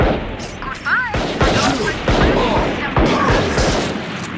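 Sniper rifle fire in the tactical shooter Valorant: loud, close shots with sharp cracks and booming tails that repeat in quick succession, with a brief voice near the start.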